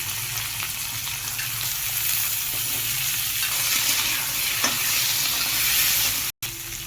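Steady, dense sizzling of vegetables, chopped onion and black cumin frying in a pan, continuous and close, with a brief dropout near the end.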